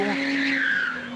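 A car spinning in a street stunt in Soweto, its tires squealing loudly with a sustained, shifting screech over engine noise, close by.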